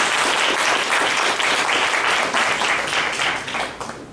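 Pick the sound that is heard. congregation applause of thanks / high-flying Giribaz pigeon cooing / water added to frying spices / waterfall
congregation applause of thanks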